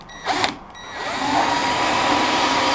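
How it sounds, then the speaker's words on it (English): Power drill pre-drilling plywood panels while building a DIY boat, a short spin-up burst then a steady, loud whirring drone boring into the wood close by. "And pre-drill."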